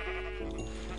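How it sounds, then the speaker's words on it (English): A short sheep bleat from Minecraft (FTB Ultimate), one clear wavering cry close up, alone with no talk. "And now there's a lot of sheep"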